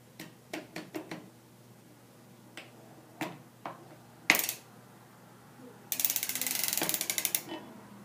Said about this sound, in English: Now you're going to hold down on the setup bonnet and crank forward.